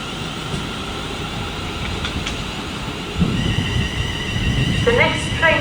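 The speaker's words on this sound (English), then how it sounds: "arriving now is the 11:13 Avanti West Coast service to Birmingham" An Avanti West Coast train runs into the platform at Birmingham International station on the West Coast Main Line, its rumble building toward the end with a brief high wheel squeal, while a station announcement plays over it.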